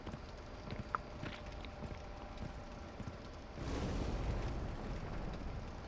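A thrown firebomb bursts in Dark Souls Remastered, a sudden swelling whoosh of roaring flame about midway that sustains as a loud, rumbling blaze, following light clatter and footstep-like game sounds.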